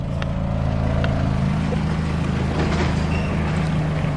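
A 2005 Honda CR-V engine idles steadily while warming up, a continuous low rumble holding even and close throughout with no talk over it.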